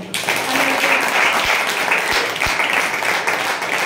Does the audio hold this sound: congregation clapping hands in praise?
yes